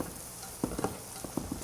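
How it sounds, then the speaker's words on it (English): Onions frying in a pan with a soft steady sizzle, broken by several close scraping stirs of a utensil against the pan, no talk. "Now the smell of frying onions, oh,"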